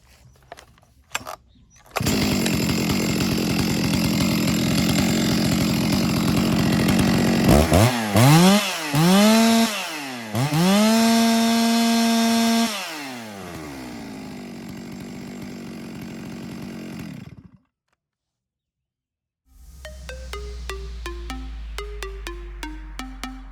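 A chainsaw runs during carburetor adjustment, holding a loud steady idle and high drone, then revving up and down in several sharp bursts before winding down, cutting out, and restarting at a lower putter.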